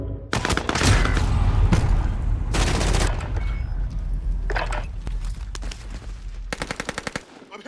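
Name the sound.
gunfire in the video game Call of Duty Warzone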